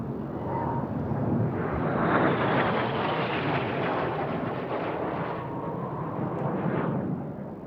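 Two aerobatic synchro pair jets roar past at an air show during a revolver manoeuvre, a loud sustained jet rush that swells and holds before easing slightly, heard fairly close.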